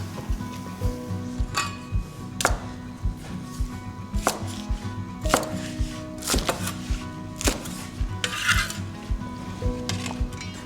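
A knife chops spring onions on a cutting board, giving sharp, irregular thwacks spaced about a second apart. They are close and crisp, with faint kitchen background noise.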